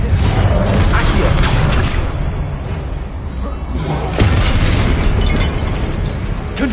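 Confringo blasting spell going off in the video game Hogwarts Legacy, loud booming explosions with bursting crackle and rumble, repeated blasts over several seconds, spoken voices mixed in.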